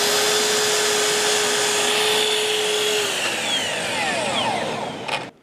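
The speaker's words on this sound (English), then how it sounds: "So now I'll go back to the saw and cut a little bit more." A power saw cuts wood for a miter station, a loud, continuous whining roar with a steady tone that bends downward as the blade spins down, ending in a brief clack.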